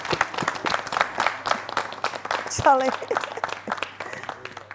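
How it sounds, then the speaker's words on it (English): Scattered, uneven handclaps from a small group ring out close by, mixed with talking voices and a brief exclamation. "This one deserves an applause, people."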